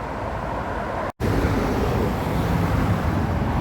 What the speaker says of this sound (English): the M60 ring road, hence all the traffic noise